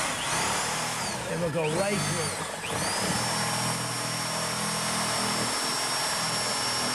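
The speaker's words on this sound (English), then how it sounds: "I'm going to make a hole 12 inches apart from each other, making 2 holes, actually, and with a 1 1/8 inch spade bit" A power drill with a wide 1 1/8 inch spade bit bores holes through wood for a furniture build, a loud whining drone that dips in pitch as it bites, with someone talking briefly over it.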